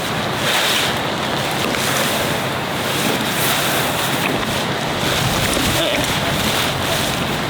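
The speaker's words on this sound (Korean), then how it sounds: "바람이 많이 불어서" Strong wind blows outdoors at a campsite where a tent is being pitched. It makes a loud, continuous roar that buffets the microphone throughout.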